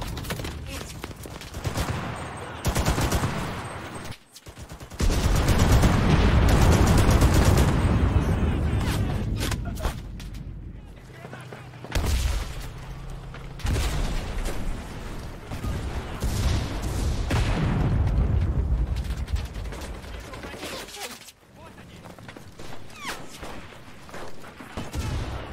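Rapid gunfire bursts crackle and boom throughout a World War II battle in the shooter game Enlisted, with heavy explosions and loud, dense volleys; someone talks over the shooting in places.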